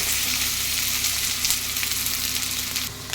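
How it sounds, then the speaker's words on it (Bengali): Potatoes frying in hot oil, a close, steady crackling sizzle with light stirring scrapes, alone without speech. "এবার আমি ওই তেলেই আলুগুলো ছেড়ে দেব। আলুগুলো একটু ভেজে নেব।"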